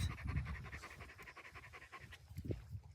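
A five-to-six-year-old dog pants rapidly and rhythmically up close, quick breathy huffs repeating steadily for a few seconds.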